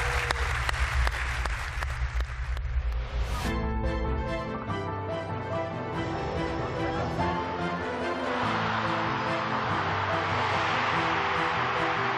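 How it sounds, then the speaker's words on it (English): An arena crowd applauds at a UEFA awards ceremony for the Women's Coach of the Year winner, a dense clapping burst giving way to loud ceremonial music that continues to the end. "there was so much applause in this arena that she almost joined us early"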